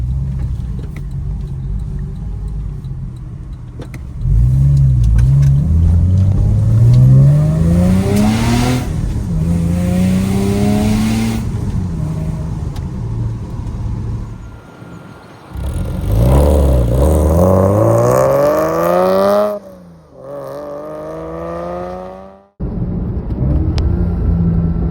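A Porsche 986 Boxster engine revs hard while driving on a B road, with rising pitch sweeps through the gears, a loud close rumble, brief lifts between pulls and no talking.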